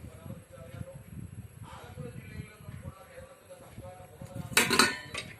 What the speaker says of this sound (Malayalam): ഇത് ദോശ പാൻ.